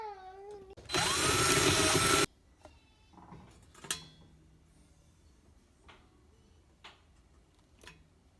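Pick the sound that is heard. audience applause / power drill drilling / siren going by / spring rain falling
power drill drilling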